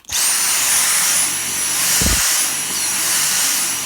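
A Dyson V6 cordless vacuum cleaner runs at full power while hoovering a garage floor, a loud steady high-pitched whine with a constant motor tone that holds for the whole stretch, with a brief low thump partway through.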